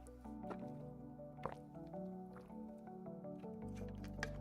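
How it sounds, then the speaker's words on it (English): Water sound effect from a Zelda VR game built in Godot 4.3, a run of soft drips, squishes and liquid plops, quiet and close, repeating irregularly with no voices. "the water sound effect is much quieter now"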